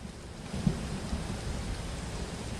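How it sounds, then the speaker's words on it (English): Steady rain falls outdoors in a broad, even hiss, with a low rumble of thunder rolling underneath and one brief louder knock near the start. "it's raining again"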